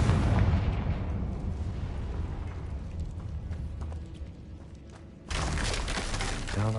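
A Confringo blasting spell bursts in the Hogwarts Legacy game: a loud, booming explosion with crackling debris that slowly decays, then a second sharp blast erupts near the end.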